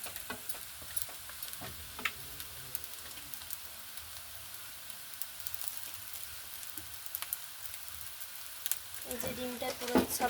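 An egg fries in a pan during chow mein cooking, giving a steady sizzling hiss with scattered small pops and ticks and a faint voice in the background.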